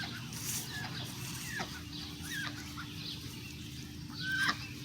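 Backyard chickens, including Rhode Island hens, give soft scattered clucks, faint and somewhat distant over steady outdoor background noise.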